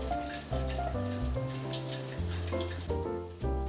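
Water rattling in the outer compartment of a double boiler on a hob while candle wax melts, a steady close bubbling and tapping patter with a few louder pulses.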